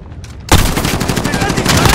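Gunfire in Call of Duty: Modern Warfare, a sudden loud onset of rapid automatic shots after a brief quiet moment, dense and close, firing in a fast continuous rhythm.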